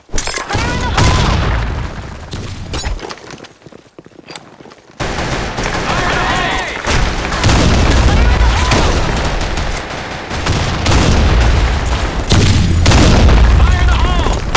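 Grenade blasts and heavy gunfire fill a BlackShot match on a sandstorm map, loud booming bursts and rapid shots layered with shouted game voice lines, broken by a brief quiet gap.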